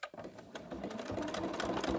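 A sewing machine stitches down fabric collage pieces in free-motion quilting, a quick steady mechanical whirring with rapid needle clatter, close and continuous after a brief start, no voices.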